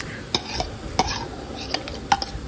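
Bamboo shoots go into a pot of pork rib soup with a few sharp ladle and pot clinks over a soft simmering hiss, close and moderately loud.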